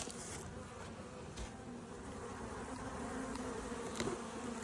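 Honey bees swarm around a hive frame feeder, a dense, steady buzzing close by with no voices.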